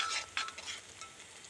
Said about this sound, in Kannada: 2-3 ನಿಮಿಷ ಇದೊಂದು ಫ್ರೈ ಹಾಕಿ